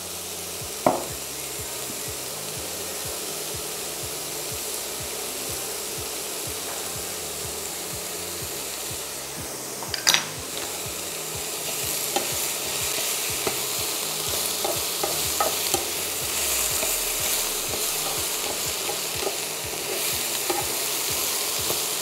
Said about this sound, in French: Donc on mélange bien tout ça.